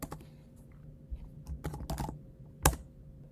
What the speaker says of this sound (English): So I just type in the word clear